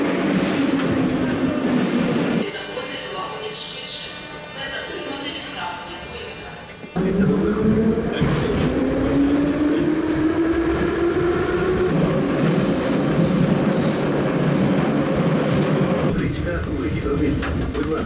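A Kyiv metro train rides along with a loud, continuous rumble and rising and falling wheel and motor whine, cutting out briefly before surging back, with people talking over it.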